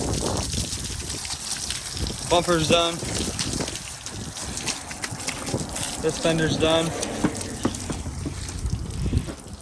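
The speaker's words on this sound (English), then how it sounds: "So yeah, we are rinsing it off." Water rinsing off a wet-sanded truck, a steady hiss and trickle of spray running across the panels outdoors, with someone talking over it twice.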